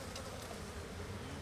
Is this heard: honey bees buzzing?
yes